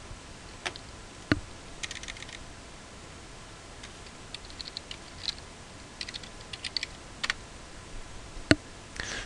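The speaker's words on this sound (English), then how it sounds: "Then type TMATS into the search function." Keys tapped on a computer keyboard while a search term is typed, a sparse run of light clicks and a few sharper taps spread over several seconds, close and fairly quiet over a faint room hiss, with no talking.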